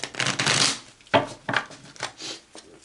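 Playing cards being shuffled at a tabletop football game championship, with a few quick riffling bursts in a close, moderately loud sequence and short pauses between them.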